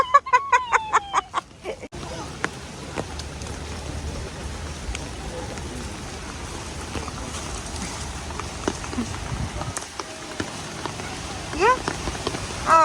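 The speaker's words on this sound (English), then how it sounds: "Oh, raining too fast already." Rain falling steadily at an outdoor animal resort in a Singapore village, a constant hiss of drops on surfaces, with a sharp rhythmic burst of clattering at the start and voices speaking over it.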